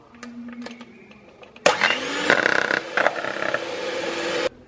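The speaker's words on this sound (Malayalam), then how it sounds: "ബട്ടർ നന്നായി ബീറ്റ് ചെയ്തെടുത്തിട്ടുണ്ട്." An electric hand beater whips 150 grams of butter in a dry bowl. It switches on abruptly and whirs loudly and steadily for about three seconds before cutting off, with quiet kitchen clatter before it starts.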